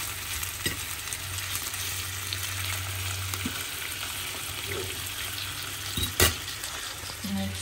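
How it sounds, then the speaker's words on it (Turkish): Food frying in a pan with only a little oil, a steady close sizzle running throughout with occasional stirring clinks and a sharp utensil knock near the end. "kızarıyor. Hemen onu çevireceğim. Hafif bir yağ koydum."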